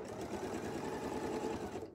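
Close, steady whirring and rapid needle chatter from a sewing machine stitching through a layered quilt sandwich, continuous for the full two seconds with no voice.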